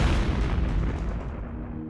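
A deep explosion boom with a rolling shock-wave rumble that fills the low end, then slowly decays and thins out over two seconds, loud and alone with no voices.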